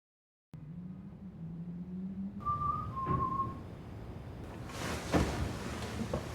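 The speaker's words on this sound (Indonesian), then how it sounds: "mendengarkan siul entah dari mana asalnya" A faint, eerie whistled tune rising from a quiet room in a film scene, a few drawn-out notes with no clear source, followed by soft knocks and rustling movements nearby.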